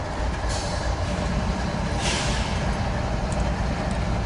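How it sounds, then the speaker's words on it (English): An eastbound Z freight train rolls past near Commerce, a loud, continuous roar and rumble of wheels and cars holding steady throughout, with no voices. "eastbound Z train just left Hobart"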